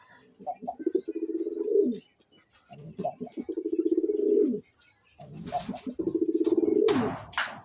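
A male pigeon coos in three close, rhythmic bouts of rolling, throaty calls, each rising and trailing off, with faint chirps and rustles between them.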